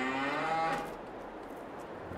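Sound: cattle mooing in Farming Simulator 22 video game

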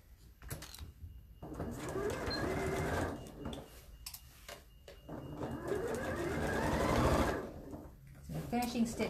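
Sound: sewing machine stitching a seam with in-seam pocket

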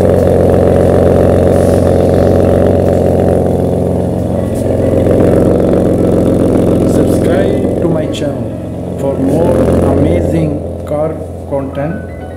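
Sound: Ferrari 599 GTB Fiorano 6.0 liter V12 engine revving

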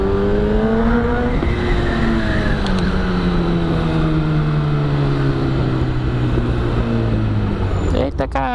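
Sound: motorcycle riding between cars in traffic

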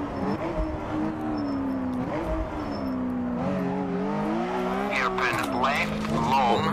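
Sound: rally car sliding on a stage in RallySimFans video game

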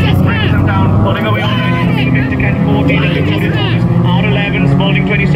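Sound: racing cars pulling away on track

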